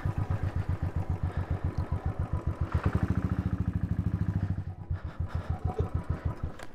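An overheated motorcycle engine with its revs locked runs close by, a rapid, regular thudding pulse that quickens briefly in the middle, then settles back to a rougher chugging rhythm; no talk.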